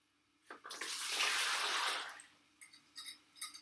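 Water pours in a steady rushing stream into a bowl for about a second and a half, then trickles off into a few small splashes and drips.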